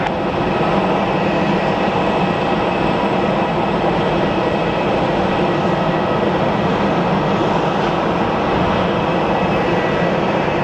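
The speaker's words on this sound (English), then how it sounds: "American 1541, runway 26, clear to land, runway 28, Joe." An American Airlines plane landing at Sky Harbor airport, heard as a continuous loud broadband jet roar that holds steady throughout, with no talk.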